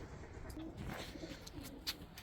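Pigeons give low, soft coos at close range amid faint rustling and light background noise, with a few brief calls over a couple of seconds.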